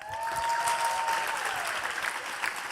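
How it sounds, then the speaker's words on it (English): Audience at an education summit applauding finalists, a brief, dense burst of steady clapping with a faint sliding tone over it, no talk. "Let's give another round of applause for all of our finalists."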